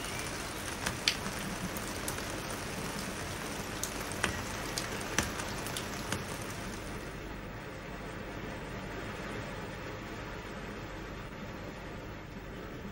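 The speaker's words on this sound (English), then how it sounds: "Can you hear that rain? I hope you can hear that rain." Continuous broadband wash of heavy rainfall, a few sharp drips or taps early on, then a smoother, slightly quieter downpour.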